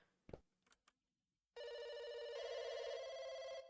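A few soft clicks and knocks, then a loud telephone ring starts abruptly and holds for about two seconds, a steady electronic trill in the horror video game Firework.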